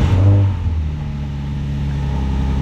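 A Nissan 350Z fitted with a mail-in tune fires up for the first time. There is a loud burst at the start, then the engine settles into a steady, rumbling idle close by, with no talk.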